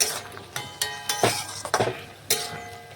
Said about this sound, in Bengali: সমস্ত কিছু একসাথে মিশিয়ে আবারও দেখুন আমি নাড়াচাড়া করে নিচ্ছি।